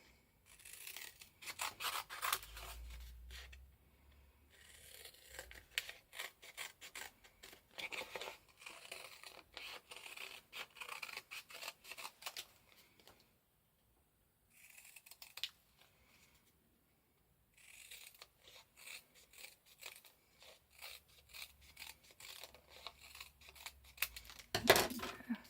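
Scissors cut out a papercraft Valentine piece, giving quiet intermittent snips and paper rustling in bursts separated by brief pauses.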